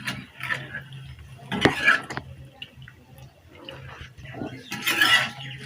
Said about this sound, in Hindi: ये अब चिकन को हम अच्छी तरह फ्राई करेंगे।